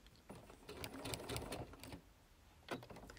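A sewing machine stitches quilting lines on fabric for a small pot-storage project, running in short steady bursts of rapid mechanical chatter that briefly pause and restart.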